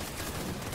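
Death Stranding gunfire, a brief dense burst of shots crackling over a rumbling backdrop, with no voices.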